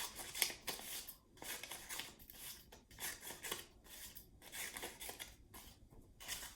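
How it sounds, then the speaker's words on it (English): Repeated snips of scissors cutting through paper, close and crisp in a steady, uneven rhythm with short pauses between cuts. "I know all of my students love cutting with scissors"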